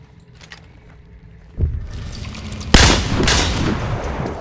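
Gunfire in the video game Hunt: Showdown, with a sharp loud shot around the middle followed by a louder broadband blast and lingering rumble, over quieter low ambient noise.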